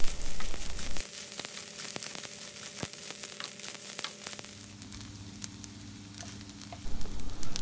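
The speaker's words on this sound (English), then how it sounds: "Stir fry for another 5 minutes on high heat or until the grains get loose and well" Rice with scrambled eggs and shrimp of the woods mushrooms stir-fried over high heat, a steady sizzle broken by sharp spatula clicks and scrapes against the pan, with louder tossing at the start and end.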